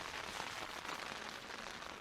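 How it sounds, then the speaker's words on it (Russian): Rain patters faintly and evenly on a surface at a mountain campsite with tents, a soft continuous crackle of drops with no voices. "Дождь в любом случае закончится, только неизвестно когда."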